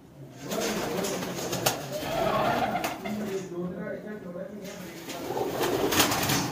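Close, soft cooing from a high-flying pigeon in Okara, repeated low throaty coos in a loose rhythm, with someone talking over them throughout.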